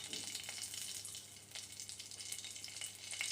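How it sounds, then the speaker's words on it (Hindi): Cumin seeds and a green chili frying in ghee in a kadhai, giving a steady, fairly faint hiss and crackle of sizzling oil throughout with no talking. "एक कढ़ाई बिठा के उसमें घी और थोड़ी सी जीरा डाल देंगे, एक हरा मिर्च"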